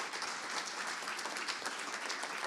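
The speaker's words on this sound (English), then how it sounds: "Let's give a round of applause to Amiel Penny." Steady, dense applause from an audience at a pitch event in Geelong, clapping loudly and evenly for the whole stretch after a presenter's pitch, with no voices on top.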